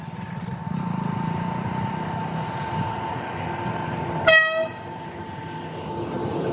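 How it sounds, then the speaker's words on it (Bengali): A passenger train passes a level crossing beside a tea garden with a steady rolling rumble, and a short loud horn blast sounds partway through. "এই যে ট্রেন আসতেছে"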